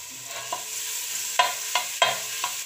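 Garlic paste sizzles steadily in hot oil and ghee in a pan for chicken dum biryani, while a spoon scrapes and stirs it in several sharp, repeated strokes.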